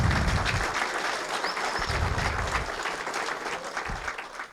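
An audience claps for the real estate market during a talk on housing, loud dense applause from a large crowd that holds steady for several seconds.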